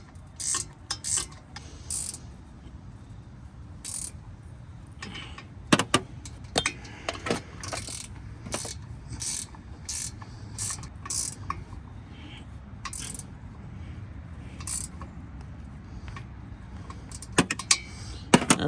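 Sharp metallic ratchet clicks in short bursts with pauses, close and fairly loud, as bolts are tightened to mount a winch on a trailer.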